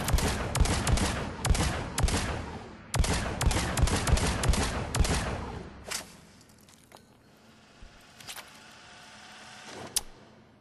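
Phalanx pistol in Mass Effect 3 fired from the hip at long range: a loud, rapid series of sharp shots for about six seconds, a pause, then a few scattered, quieter shots trailing off.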